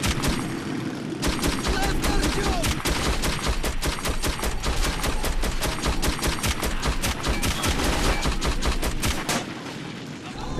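Dense rapid gunfire in Metro 2033, long loud bursts of close shots in quick succession with booming impacts, continuing for about nine seconds before easing off, with a voice faintly under the din.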